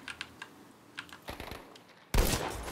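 A headshot in the video game Battlefield V: light keyboard tapping at first, then a sudden loud gunshot burst near the end that stays loud as the clip closes.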